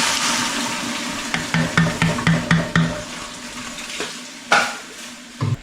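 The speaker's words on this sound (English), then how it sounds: "I'll be pouring my first bottle of vinegar on to just deglaze it at the bottom" Vinegar hits a hot pan with a rush of hissing sizzle while deglazing, punctuated by a series of rhythmic scraping strokes and clanks of a utensil, while making beetroot.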